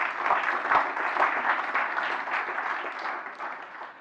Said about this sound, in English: So big applause for you, because without you, probably Academy won't be there